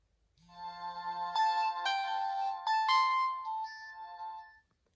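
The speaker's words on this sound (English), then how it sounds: "this one did have a startup sound" A Samsung GT-E2121B mobile phone plays its startup jingle, a clear tonal electronic melody of several bright notes lasting about four seconds, close and alone with no talking.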